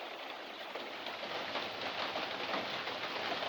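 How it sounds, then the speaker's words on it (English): Steady rain falling outdoors at night around a shack, a continuous even hiss of drops with no talking, heard from indoors. "it's raining pretty good"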